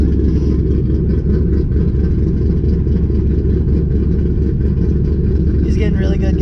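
Steady low rumble of a cammed Coyote V8 in a Mustang idling while still cold, a continuous loud drone throughout.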